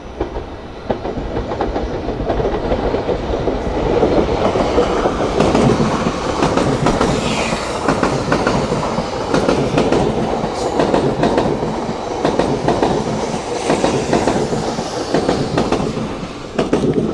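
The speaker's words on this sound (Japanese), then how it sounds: "これですよ、500系新幹線。" A 500 Series Shinkansen bullet train passes at night near Shin-Osaka Station, a loud continuous rush of wheels and rail noise with rhythmic clatter sustained for the whole stretch, no voices.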